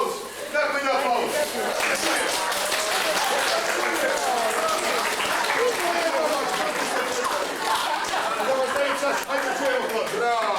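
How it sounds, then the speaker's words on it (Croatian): An audience of children and adults at an outdoor gift-giving ceremony breaks into sustained clapping and cheering, a dense, loud wash of applause mixed with excited crowd chatter. "Ajde da čujem jedan aplauz."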